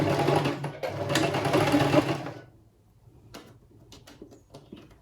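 A sewing machine stitches crinoline for a child's ball gown with a quarter-inch seam, running loud and steady for about two seconds. It then stops, leaving faint clicks and light handling noise.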